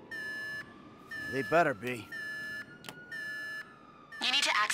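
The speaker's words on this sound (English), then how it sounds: "The alarm's been tripped." An alarm in the video game GTA V during the Bureau Raid heist: steady repeating electronic beeps in regular bursts, close and loud, with someone speaking briefly over it partway through.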